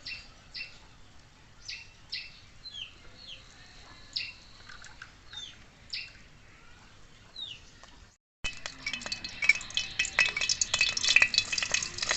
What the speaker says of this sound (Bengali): কাঁচা ঝাল আর পেঁয়াজ আর রসুনগুলো আমি ভেজে নিচ্ছি এখন